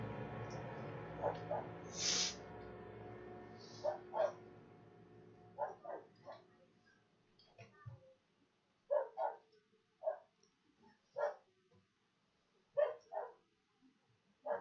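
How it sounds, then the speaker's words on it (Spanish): A dog barks in short repeated bursts, at first muffled and mixed with a whining whimper, then in clearer spaced single barks, fairly faint against a quiet background. "Dale que está necio para ponerse a ladrar ahora."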